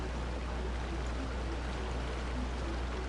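A waterfall in the video game Genshin Impact gives off a steady, dense rushing roar that holds constant for the whole stretch, with no voices over it.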